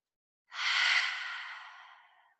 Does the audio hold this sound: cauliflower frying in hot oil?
no